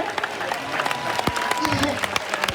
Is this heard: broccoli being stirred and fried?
no